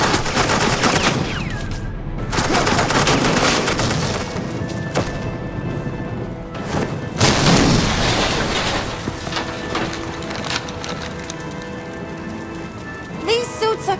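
Rapid bursts of suppressing gunfire from agents in Batman: The Enemy Within crackle through a busy game scene, repeated volleys layered over a steady noisy wash, with a voice speaking briefly.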